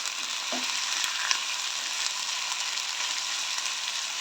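Sliced chicken sautés in a pan, giving a steady, even sizzle close by, with a few light clinks and taps of a utensil near the start and no speech.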